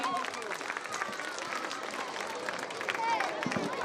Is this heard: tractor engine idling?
no